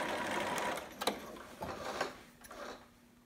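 A sewing machine runs a short back stitch in a romper, a close, quiet mechanical whir with rapid ticking needle strokes and a brief pause partway through.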